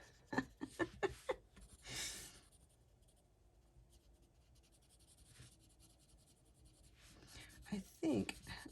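A colored pencil scratches across paper in soft, faint strokes, with short bursts of scribbling at the start and end and quieter shading between them. Light breathing and a brief voice also come through.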